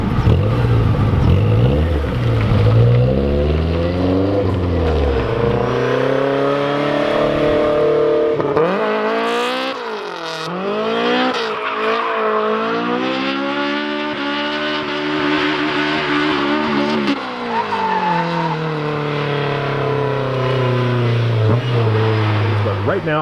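A car on an abandoned racetrack runs cool-down laps on worn-out tires, its engine droning loudly and steadily with rising and falling revs as it shifts and accelerates, heard from inside the car.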